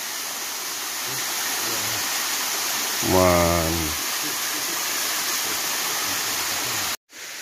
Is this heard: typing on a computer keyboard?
no